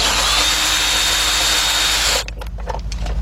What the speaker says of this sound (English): So we're gonna grab our cordless gun